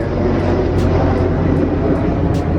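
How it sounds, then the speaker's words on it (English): A steady, loud drone of an airplane passing overhead, a broad continuous roar that holds level throughout, with no talking. "We got a plane flying by."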